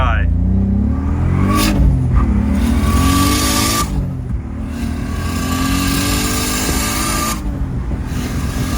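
A turbocharged BMW 325ci E46 with an S52 engine, out on a street by a dead end, revs hard and pulls through the gears, its engine note rising and dropping at each shift, loud and close.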